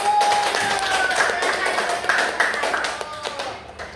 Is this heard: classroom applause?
yes